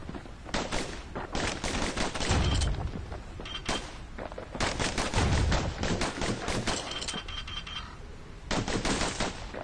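Rapid pistol gunfire in the action game Bastion, dense volleys of sharp shots with heavy thumping impacts and booms, loud and continuous with brief pauses between bursts.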